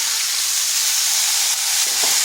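Pieces of young jackfruit frying in hot oil in a pan, a steady close bright sizzle and hiss that holds evenly throughout with no voices.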